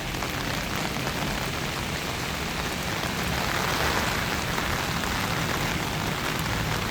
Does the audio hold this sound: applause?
no